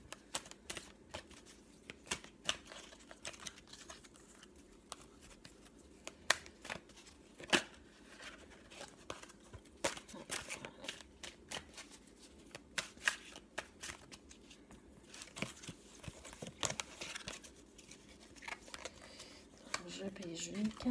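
Affirmation cards being shuffled by hand, a fast riffling flutter of cards with soft taps, fairly quiet and close, under a person speaking.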